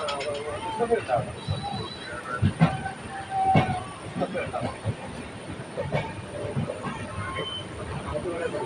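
A Jan Shatabdi passenger train with LHB coaches runs along the track in Kerala, giving a low rumble with scattered clicks, knocks and rattles and a faint whine from the running gear.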